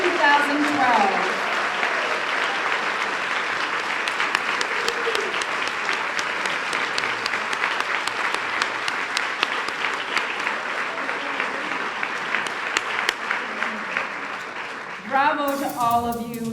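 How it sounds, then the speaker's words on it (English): An audience at a Boston Public Schools valedictorians luncheon gives the class of 2012 a long, sustained round of applause, even and full for about fifteen seconds, before a voice begins speaking over the fading claps. "please stand for one more proud round of applause and congratulations to the class of 2012."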